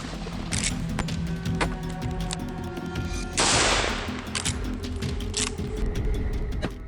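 Repeated gunfire during a wild boar hunt with shotguns, loud sharp cracks scattered throughout over a dense, busy background, with one longer broadband burst midway.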